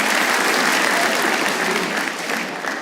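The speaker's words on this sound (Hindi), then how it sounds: "एक बार हमारी टीम के लिए तालियां होनी चाहिए दोस्तों" Audience at a stand-up comedy show bursts into loud, dense applause for the team, close and full before tapering off slightly near the end.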